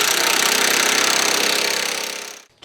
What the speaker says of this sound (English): 1/2 inch drive impact, brushless, and it's a phenomenal tool.